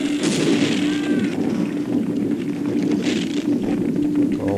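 Gunfire from weapons in the shooter game Half-Life, a steady stream of firing and impacts with constant game ambience and a sustained tone running underneath throughout.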